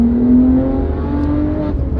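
A stage 2 tuned BMW 1M producing about 400 horsepower through an Akrapovic exhaust accelerates in a short, steady roar. The engine note is close and loud, with a rising tone and no voices.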